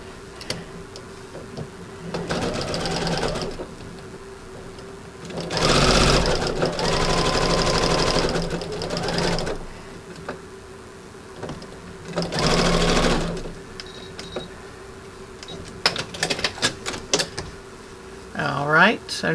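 A sewing machine runs close and loud, joining fabric for a candy corn wall hanging in three separate bursts of steady stitching, with quiet pauses between them and some handling noise at the end.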